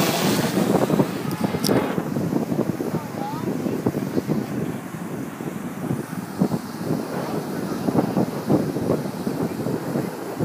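Wind buffets a DJI Inspire 1 drone flying over the sea while it chases a cargo ship. The roar is steady and rumbling, with close, continuous gusting throughout.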